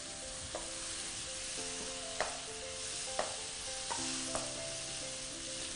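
Onions frying in a pan for a sardine and rolled potato dish, a steady broadband sizzle broken by a few sharp clinks of a utensil against the pan, with no talking.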